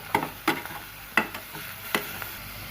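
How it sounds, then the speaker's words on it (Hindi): Capsicum and tomato frying in a pan for chicken pasta, with a quick run of close stirring scrapes and sizzle bursts over a faint background hiss and no voices. "इसमें जाएंगी आप शिमला मिर्ची, साथ टमाटर, इसको भी हल्का सा फ्राई करेंगे 1 मिनट के लिए।"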